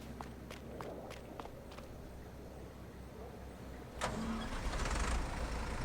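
An old tractor engine in a farming and homestead video game cranks and catches after a few soft clicks and footsteps, then settles into a low, steady rumble.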